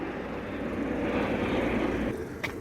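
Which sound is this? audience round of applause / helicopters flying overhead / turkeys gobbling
helicopters flying overhead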